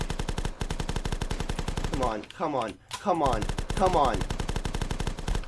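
Rapid automatic gunfire blasts at zombies in The Last Stand, a fast, loud rattle of shots running almost continuously, briefly broken while someone speaks over it.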